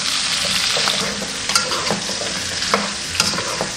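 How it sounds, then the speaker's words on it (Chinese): Duck pieces stir-fried in a wok with scallion, ginger and garlic give a steady loud sizzle, broken by several sharp scrapes and clanks of the spatula tossing the meat, with no voices. "我们下入葱姜蒜。 继续给它翻炒5分钟"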